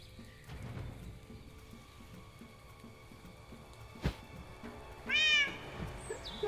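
A single short cat meow sound effect from Syrinscape near the end, over a steady murky background of rain-like noise and faint clatter.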